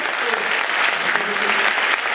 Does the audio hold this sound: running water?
no